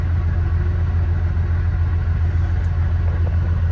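A car, one whose driver had been stranded with a hydrolocked engine, pulls away with a steady, loud, low engine rumble that holds even throughout, with no voices over it.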